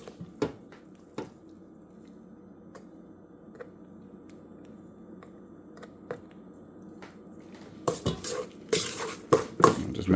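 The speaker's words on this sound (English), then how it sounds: "just going to incorporate the sugar, butter, and egg mixture" Utensil clinks and scraping against a bowl while stirring a sugar, butter and egg mixture, sparse taps at first, then a busier burst of rapid mixing clatter near the end.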